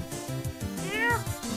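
A crying cat in a video game meows in a wavering, sobbing run under music, its drawn-out wail rising and falling near the end.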